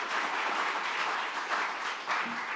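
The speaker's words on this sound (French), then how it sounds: "On applaudit à nouveau nos collègues italiens." An audience at a master class applauds steadily, a dense wash of many hands clapping at even loudness throughout, with no talk over it.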